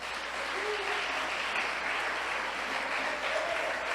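A church congregation claps together in a dense, steady wash of applause that holds at an even level throughout, with no break.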